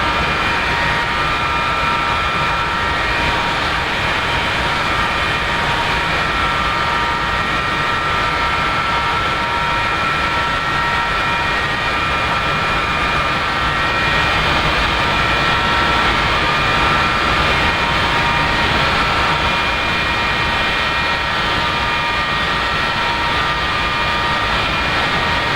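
An F-4E's jet engines run steadily after a cold start in the DCS flight simulator, a loud, constant roar and whine that holds unbroken, with no voices over it.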